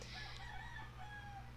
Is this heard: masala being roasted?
no